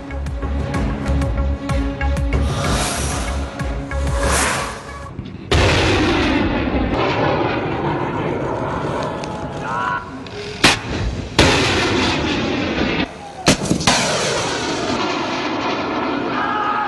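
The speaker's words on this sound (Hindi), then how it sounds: "एयर डिफेंस यूनिट्स का जमीन से फिजा में मार करने वाला मिसाइल की फायरिंग का कामयाब मुजाहरा" Surface-to-air missiles fired by Pakistani air defence units during a live-fire demonstration, heard as a loud, sustained roaring rush with sharp blasts and abrupt cut-ins throughout, nearby and without talk.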